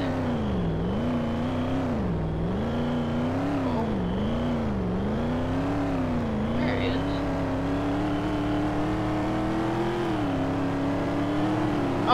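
A Dodge Ram truck's engine in a Roblox game drones steadily, its pitch wavering up and down with repeated revs before holding a constant whir, with a voice talking quietly underneath.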